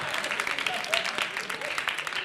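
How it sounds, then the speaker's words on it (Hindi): An audience at a poetry recital claps in a dense, continuous patter, with a voice speaking over the applause. "ताली बजाओ।"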